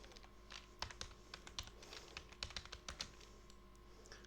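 Quick bursts of keystrokes on a computer keyboard as a short word is typed, irregular clicks rising out of steady low room hum, close and moderately quiet.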